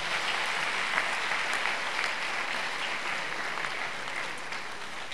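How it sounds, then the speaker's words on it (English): Audience applause at a university leadership lecture series: a continuous, even wash of clapping from a large crowd, moderately loud and sustained without a break. "Shall we give them a round of applause?"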